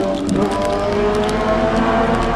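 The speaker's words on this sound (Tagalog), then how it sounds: "Ang iingay ng makina ng motor." Loud motorcycle engines roar past close by on a busy road, a dense, continuous rumble with rising and falling whines and no pauses.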